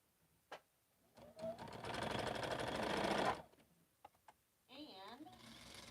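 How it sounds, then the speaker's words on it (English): A sewing machine stitches quilt pieces together in a quick, steady mechanical run of about two seconds, stopping and then starting again more briefly, with a few small clicks between the runs. "I'm going to sew this piece together just so it's connected."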